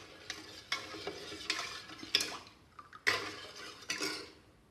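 A spoon stirs milk boiling down in a pot on a flame, producing irregular scraping and clinking strokes against the metal with a soft bubbling hiss between them.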